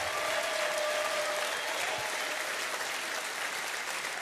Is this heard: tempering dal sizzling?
no